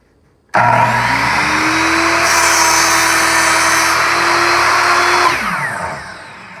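A power saw blade cuts through a wood board, starting abruptly with a loud steady whine, the pitch rising slightly as the blade bites, then winding down near the end; close and alone without speech.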